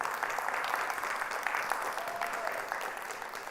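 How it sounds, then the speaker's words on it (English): A round of applause from a seated audience at a talk on Black identity, sport and celebrity, steady and fairly distant clapping that holds evenly throughout with no voices over it. "Give him a round of applause."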